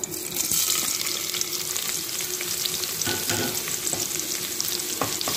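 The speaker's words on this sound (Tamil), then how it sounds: "கட் பண்ண ஆனியன்ஸ் ஆட் பண்ணலாம்" Chopped onions sauté in a hot pan for prawn biryani, giving a steady close sizzle and crackle with occasional stirring scrapes, no voices over it.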